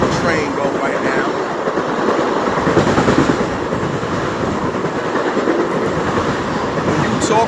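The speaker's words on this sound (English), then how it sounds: "let the train go right now" A train rolls past close by, a steady broad rumble with faint rhythmic wheel clatter holding at a constant loud level for several seconds, with no talk over it.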